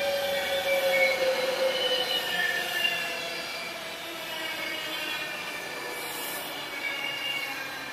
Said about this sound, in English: And arriving in now is a Virgin Trains Pentolino bound for London Euston.